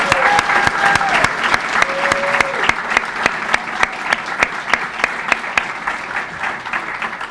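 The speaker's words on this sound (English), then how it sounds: "Give her a round of applause for putting me." A crowd claps loudly at a firm's anniversary ceremony, dense sustained applause with sharp individual claps standing out near the front and a few brief voices calling out over it.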